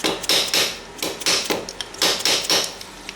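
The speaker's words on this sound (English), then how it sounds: "I'm just going to give it a little tap and see if it lines up." A hammer taps a front sprocket onto the splines of a Yamaha Raptor 700R ATV: about eight sharp metallic taps in a quick, fairly even rhythm, close and clear with no talking.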